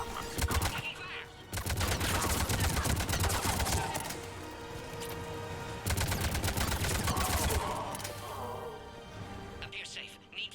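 Rapid gunfire in the video game Mass Effect 3, two long dense bursts of automatic shots separated by a short lull, with game dialogue speaking faintly underneath.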